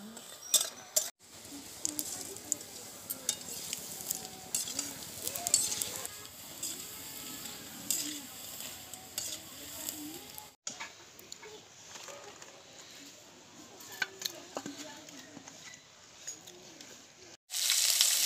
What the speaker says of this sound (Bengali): পকোড়াগুলো কিন্তু এইভাবে নেড়ে চেড়ে ভালো করে ভেজে নিতে হবে, একবারে কড়কড়ে করে।